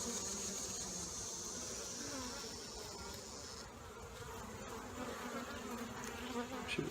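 Dense, continuous buzzing of many honeybees close by at an open hive, a steady droning hum that swells slightly toward the end.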